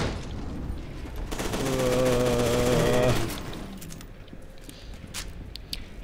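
Automatic gunfire from hip-firing a weapon in the F.E.A.R. 2 video game, a loud sustained burst of rapid shots lasting about two seconds before fading into quieter scattered sounds.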